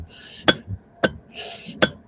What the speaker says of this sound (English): it's just me here with my hammer.